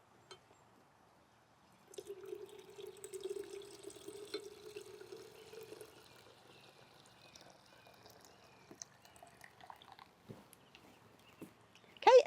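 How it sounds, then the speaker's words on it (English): Water poured into a pitcher of watermelon lemonade, a steady gentle pour running for about four seconds, then scattered faint drips and small splashes, close and fairly quiet with no talking. "we're going to add 6 cups of water to our pitcher"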